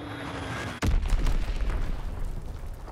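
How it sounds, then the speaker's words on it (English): Enemy bomb blast in the World War II shooter Call of Duty WWII: a single sudden low boom cuts in about a second into a battle ambience, followed by a rumbling, crackling tail that slowly fades. "Enemy bomb incoming."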